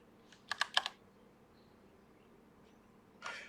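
A computer keyboard clicks in a short quick burst of keystrokes, then a longer quiet pause and a second brief flurry of typing, faint and close, with no talking.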